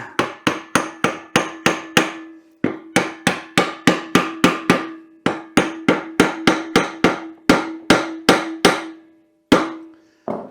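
A hammer taps a part into place on a lawn mower in repeated quick bursts of sharp metallic strikes with short pauses between groups, loud and close.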